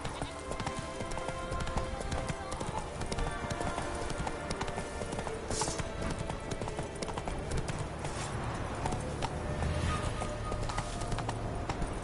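Hooves of the horse in The Witcher 3 clip-clop steadily under a dense, continuous game soundscape of music and ambience, with no pause throughout.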